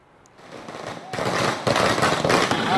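Firecrackers burst during a public street celebration, a rapid crackling string of loud pops that rises after a quieter start and keeps rattling densely to the end, with crowd noise mixed in.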